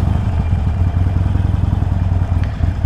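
A Harley-Davidson Iron 883 motorcycle idles close by in a church parking lot, its engine giving a steady, loud, low, lumpy rumble with a rhythmic pulse throughout.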